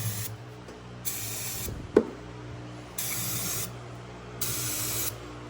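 Brake cleaner hisses from an aerosol can onto a car part in three steady bursts of about a second each, close and clear, with a sharp tap of handling noise between sprays.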